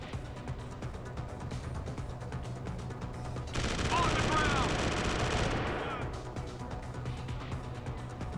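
Sustained automatic gunfire from the video game Deus Ex: Human Revolution rattles loudly for about two seconds in the middle, set between quieter stretches of game ambience.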